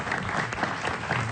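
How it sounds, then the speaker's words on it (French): A studio audience on a French talk show gives a short burst of dense, steady applause, with a little speech mixed in. "On vous remercie, on vous applaudit."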